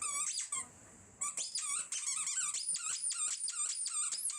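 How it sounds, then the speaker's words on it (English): A dog plays with a squeaky toy, making a rapid, irregular series of high, sharp squeaks close by, broken by a short pause and mixed with faint canine grunts. "Look at that cute little doggy playing with her toy."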